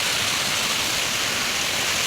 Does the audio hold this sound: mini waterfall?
yes